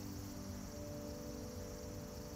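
Cicadas singing beside the Todoroki ravine near Todoroki Fudoson temple in Tokyo, a dense, steady high-pitched drone filling the air continuously with no voices.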